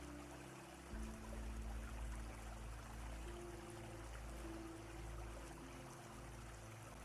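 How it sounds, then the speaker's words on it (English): A small stream trickles over dark stones along a forest path at night, a faint, continuous watery rush with a low steady hum beneath, no voices. "The night remains quiet, except for the slow gathering voice of water."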